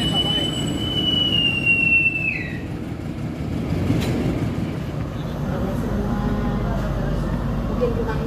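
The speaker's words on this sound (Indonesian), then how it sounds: "kereta api Pandalungan sebentar lagi akan diberangkatkan" A departing Indonesian passenger train, the Pandalungan, rumbles with a high wheel squeal early on, steady and fairly loud throughout as the cars get moving.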